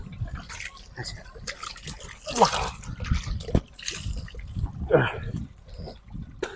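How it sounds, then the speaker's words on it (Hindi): Water splashes and drips as hands and face are washed outdoors at a vegetable farm with eggplant and tomato plants, the intermittent wet sounds mixed under ongoing talk. "पानी में मुंह हाथ धो लेते हैं"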